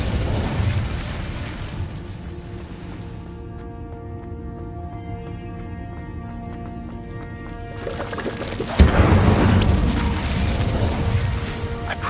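An Incendio fire spell bursts in Hogwarts Legacy. A loud, sudden whoosh and boom comes after a stretch of tonal game music, and a dense roar of flame lingers for several seconds.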